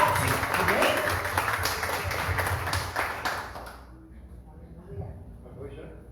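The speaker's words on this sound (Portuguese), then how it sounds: "Uma salva de palmas para Jesus" A church congregation gives a round of applause during a service, with brisk, busy clapping for a few seconds that cuts off abruptly, leaving quiet room sound and faint voices afterward.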